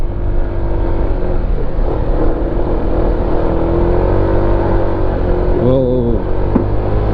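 A motorcycle engine labors loudly and steadily as it climbs a steep uphill road between Nueva Ecija and Dingalan, Aurora, with a continuous drone, a brief pitch swell near the end and wind rush throughout.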